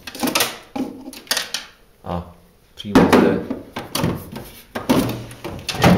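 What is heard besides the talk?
freezer drawer opening and closing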